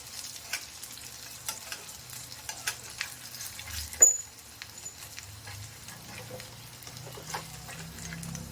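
Aval vadai, flattened rice fritters, frying in hot oil and being flipped, with a soft continuous sizzle broken by scattered light ticks and one sharper clink of the utensil turning them.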